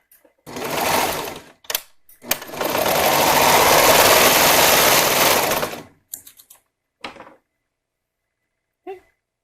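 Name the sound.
sewing machine stitching fabric edges together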